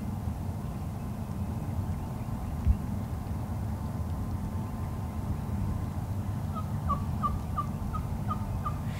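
Wild turkey gobblers give a rapid, distant string of gobbles late in the passage, faint under steady outdoor rumble.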